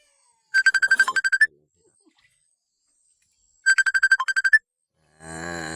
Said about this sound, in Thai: ผู้ใดเนาะโทรมากวนนี่เนาะถ่ายคลิปอยู่นี่